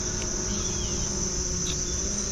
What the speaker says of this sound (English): look at all these bees just hanging out